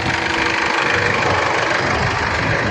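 An Isuzu mu-X engine idles steadily up close, a continuous broadband rumble with a light knocking texture, with no voices over it throughout the stretch.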